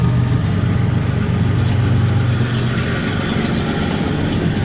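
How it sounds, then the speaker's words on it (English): A CSX railroad maintenance truck idles nearby beside a track where a CSX intermodal train runs, giving a loud, steady low engine rumble that holds throughout with no talk over it. "Oh wait, look at that CSX truck."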